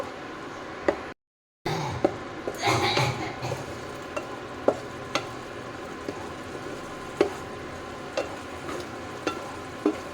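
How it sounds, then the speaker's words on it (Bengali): Poppy seed and melon seed paste being sautéed into a radish kofta curry base, a steady sizzle with a short burst of stirring and scattered sharp clicks of a utensil against the pan, after a brief silent gap. "সেই পেস্টটাও দিয়ে দিচ্ছি দিয়ে সুন্দরভাবে কষিয়ে নেব"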